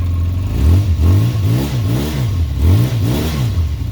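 A 1992 Yamaha XJ600 Seca II air-cooled four-cylinder engine with stock mufflers revs repeatedly in rising and falling throttle blips, loud and near, with a steady idle underneath.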